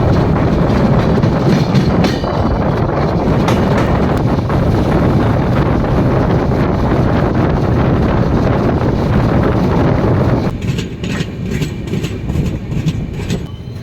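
A passenger train bound for New Jalpaiguri pulls out after a halt, its loud continuous rumble and clatter heard up close with wind buffeting the microphone, easing to a lower roar near the end.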